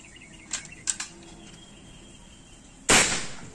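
A single sharp, loud shot from a folding PCP air rifle, 4000 psi, cracks out after a few faint clicks, its report decaying briefly into quiet background.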